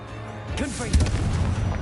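A Confringo blasting spell exploding in the wizarding game Hogwarts Legacy, a swooping magical whoosh followed by a heavy, booming impact with rumbling tail, fairly loud and close.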